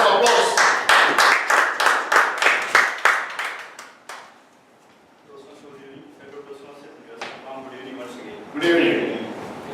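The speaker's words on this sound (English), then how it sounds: "Can we have a round of applause?" A small audience at a Toastmasters meeting claps in a quick burst of sharp, close handclaps that taper off after a few seconds, followed by a person speaking.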